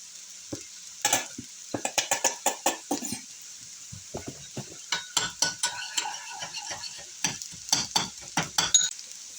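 Spoon clinks and scrapes against a pan in a cooking setting as food sizzles softly underneath, the metallic taps coming in irregular clusters, close and clear with no talking.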